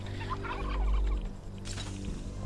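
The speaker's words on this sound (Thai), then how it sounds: "ไปปล่อยไก่นะครับในกรงสามตัวนะ" Poultry in the survival video game Last Day on Earth, released into a cage: a burst of gobbling, clucking bird calls, fairly close, over a low game background hum, with no talk.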